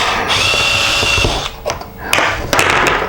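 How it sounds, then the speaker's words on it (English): A power drill with a 7/16 inch bit bores through part of a homemade TV antenna, a loud whining spin that bogs and restarts in bursts, close by and without talk. "So take a drill. This is a 7/16 inch drill."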